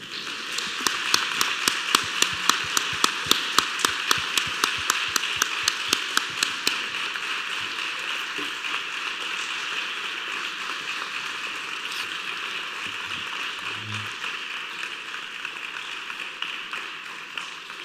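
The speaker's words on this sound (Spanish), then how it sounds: "pediría un enorme aplauso para él" An audience applauds at an agricultural biodiversity conference, first as a few sharp, distinct claps, then as a dense, steady patter of many hands that carries on at moderate volume.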